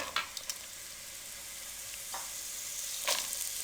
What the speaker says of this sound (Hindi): 1 से 2 मिनट के लिए अच्छे तरीके से फ्राई कर लेंगे।